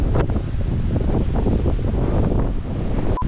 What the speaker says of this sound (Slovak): len veľmi fúka vietor